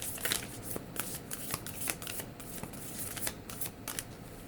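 A deck of Goddess Power Oracle cards is shuffled in a series of quick riffling bursts, close and fairly loud, with no talk.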